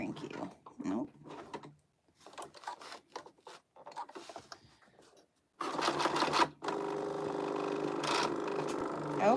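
Sewing machine hand-cranked while stitching a crossbody bag: choppy, stop-start mechanical rattles in short bursts, then a denser steady run of whirring clatter near the end, fairly close and moderate in volume.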